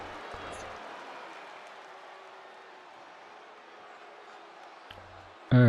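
A video game wrestling arena crowd in WWE 2K25 fills the clip with a steady, moderate roar of cheering and applause that fades slightly over time, ending with a sudden louder burst.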